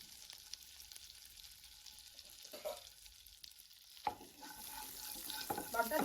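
A piece of butter melts in a pan for paneer gravy, a soft, quiet sizzle that grows busier and louder toward the end, with no voices.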